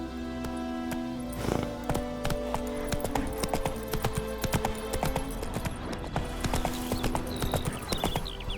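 Horse hooves clip-clop steadily at a walking pace in The Witcher 3 game, a close, regular rhythm of hard strikes continuing throughout with faint background ambience.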